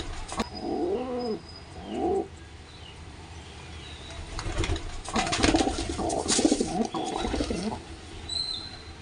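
A pigeon coos repeatedly from its nest inside a house, soft rounded calls in short bursts near the start, with later stretches of mixed fluttering and scratchy movement against a low background hum.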